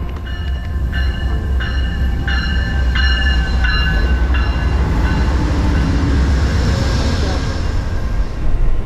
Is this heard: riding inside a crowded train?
yes